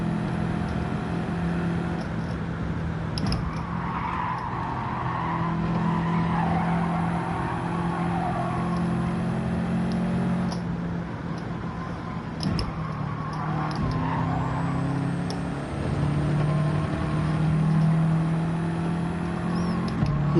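A race car in Gran Turismo 7 drives on track, its engine droning and revving steadily at close range with tires squealing and skidding throughout.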